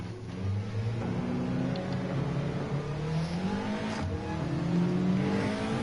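Race car engine in a Le Mans racing video game, spinning out under too much throttle, loud continuous revving with rising and falling pitch and some tire noise, no talking.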